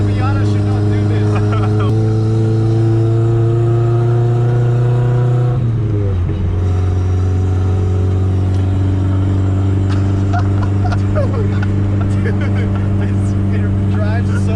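A cammed Mazda Miata engine drones loudly and steadily as the car drives and bounces on bad suspension, its pitch dipping briefly midway before settling again, with people talking over it.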